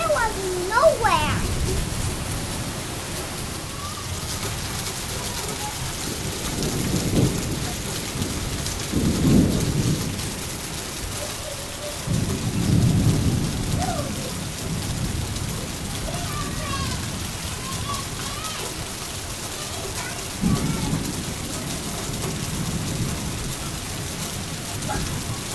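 A severe thunderstorm in St. Martinville, Louisiana, in August: steady heavy rain pours throughout while several deep rumbles of thunder roll in and fade, with people talking faintly in the background.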